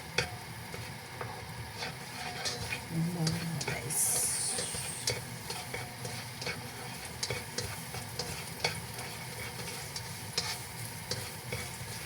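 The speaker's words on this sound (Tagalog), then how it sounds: "Igigisa natin muna. Kunting bawang lang." Garlic sautéing in a pan for a braised beef oxtail dish, a steady soft sizzle and hiss with scattered spatula scrapes and stirring clicks throughout, fairly close, no talking.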